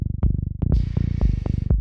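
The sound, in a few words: synthesizer bass patch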